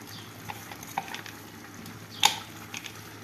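Tomatoes with green chilli and ginger-garlic paste fry in a pan, giving a quiet, close sizzle broken by a few soft stirring scrapes and one sharper clink.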